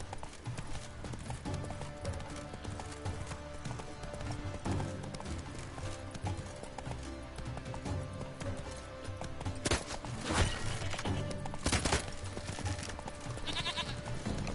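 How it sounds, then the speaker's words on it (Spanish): A horse's hooves clip-clop steadily in The Witcher 3 video game, a continuous rhythmic trot under game ambience with occasional sheep bleats and sharp impact sounds near the end. "Whoa there, Roach."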